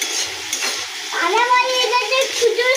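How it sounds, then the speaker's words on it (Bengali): Onions frying in a pan, a close bright sizzle with stirring scrapes, swelling louder midway as the spatula moves, while faint voices murmur underneath. "এ তোমার হচ্ছে পেঁয়াজ কালি ভাজা হচ্ছে"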